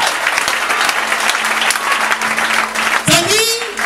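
A church congregation claps and cheers together to acclaim Jesus, dense sustained applause filling the room, with a singer's or preacher's voice rising over it near the end.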